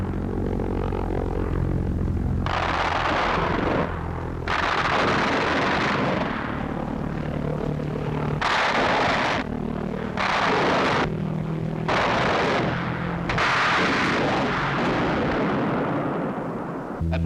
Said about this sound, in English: 20mm cannon fire either wrecks the engine, puts the gyro out of commission, or explodes the bomb